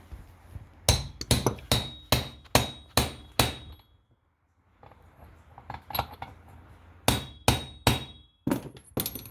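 A hammer striking a large 3/4-inch socket on a Stihl chainsaw during a keyway repair, ringing metallic blows in quick rhythmic runs of sharp clanks, close and loud, with a short pause midway.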